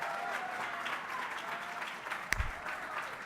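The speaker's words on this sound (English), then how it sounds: "how about an exciting round of applause for what an exciting day it is today" Audience applause at an LGBT Hall of Fame induction ceremony in Chicago, a steady wash of clapping across the whole stretch, moderately distant, with one sharp louder knock near the end.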